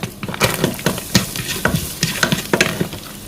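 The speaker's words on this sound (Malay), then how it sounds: "Ni kita tumis bawang Holland yang dah dipotong dadu tu." Diced onions sizzle in hot ghee while being stirred, with steady frying crackle and repeated scraping strokes of a utensil close by.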